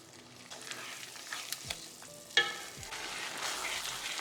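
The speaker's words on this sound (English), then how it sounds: "gradually add the stock 2 ladles at a time and continuously stir" Risotto rice being stirred in a pan as stock is added, giving a quiet steady sizzle and simmer with soft scraping stir strokes and a few brief clinks or knocks, close and fairly faint with no talking.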